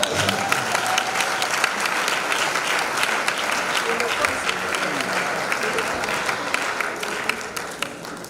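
Audience applause at a 60th birthday celebration, a steady dense wash of many hands clapping that fills the whole stretch at an even loudness, with a faint voice briefly audible beneath it.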